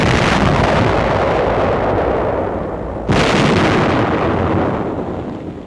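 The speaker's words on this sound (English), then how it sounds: "the gunner pushes the firing button." A remotely fired artillery gun in a 1945 military demonstration fires two loud, close blasts a few seconds apart, each followed by a long rumbling decay.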